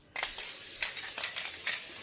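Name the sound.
cooking spray aerosol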